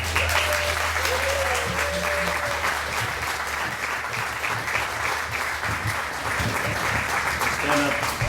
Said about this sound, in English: please give a big round of applause from all the way in the back